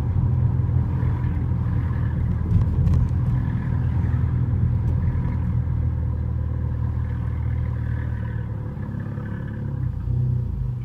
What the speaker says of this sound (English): You just get that burble sound